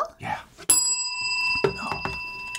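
A bright bell rings once with a long, shimmering ring that fades slowly, while people talk before and after it.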